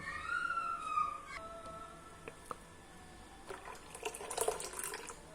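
Water splashes and trickles into a container for a couple of seconds near the end, following quieter kitchen clatter.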